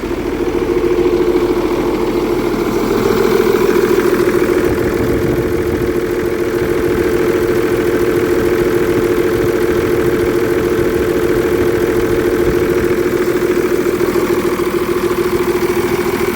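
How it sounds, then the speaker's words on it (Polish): A Cummins 8.3 diesel engine in an HTZ tractor idles loudly and steadily with a deep, throbbing rumble and a rough knocking undertone, running unmuffled with no exhaust fitted and no pauses. "A dudni tak, bo nie ma jeszcze wydechu zasłoniętego."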